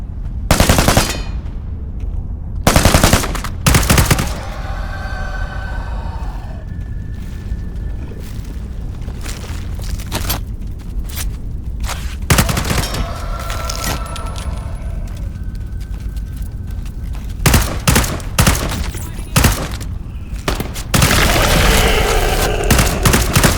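Loud, close automatic gunfire from Into the Radius 2, with repeated heavy bursts of rapid shots, brief rumbling gaps between volleys and a long rattling stream near the end.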